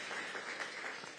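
Audience at an outdoor ribbon cutting for an affordable housing community applauds, a brief dense wash of clapping from a sizable crowd, steady and fairly loud.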